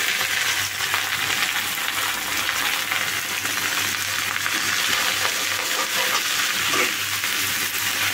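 Red amaranth greens frying with onions in a pan make a steady, broad sizzle with soft crackle, close and continuous throughout, no voices.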